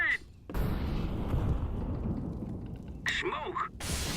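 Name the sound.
grenade explosion in a video game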